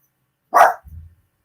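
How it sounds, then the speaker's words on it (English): A dog gives a single sharp bark indoors, reacting to noises in the house, followed by a brief low rumble; the bark is close and loud against an otherwise quiet room. "the dog, which is going to start barking pretty soon at the noises in the house"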